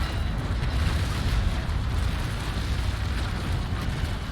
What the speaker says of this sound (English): Start grenades, firing our guns manually.